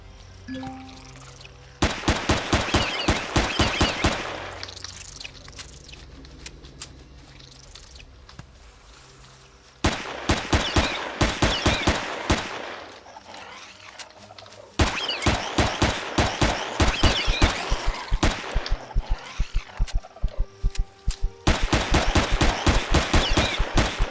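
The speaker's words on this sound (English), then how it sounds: "How many bullets to the face must you take?" Rapid bursts of automatic gunfire in a video game, loud sharp shot trains in several long volleys separated by brief quieter gaps, with faint background game ambience.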